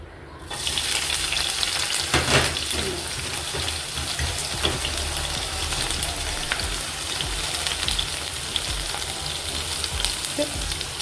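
Crushed garlic, bird's eye chilli, shallots and curry leaves drop into hot oil in a pan, setting off a loud, dense, continuous sizzle that holds steady close by with a few stir scrapes and no talk.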